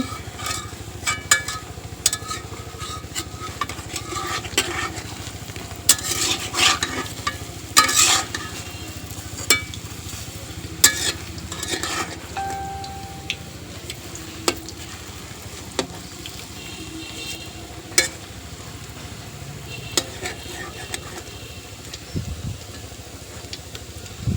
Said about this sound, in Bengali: তো বড়াগুলা এখন আমি উল্টাই দিতেছি।